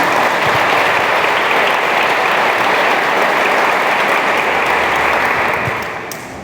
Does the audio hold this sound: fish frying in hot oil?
no